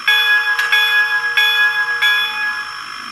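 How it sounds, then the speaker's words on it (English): A locomotive bell from a Soundtraxx Tsunami2 sound decoder in a brass 2-10-0 model rings steadily with bright metallic strokes for about three seconds. Nobody talks over it. "Here's our bell."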